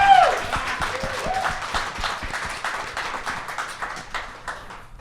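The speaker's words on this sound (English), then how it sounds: "Let's cheer for Pat Quinn" A crowd at a live podcast taping in a Boston Pizza restaurant in Stouffville claps and cheers in dense, sustained applause that slowly fades, with a voice briefly rising at the start.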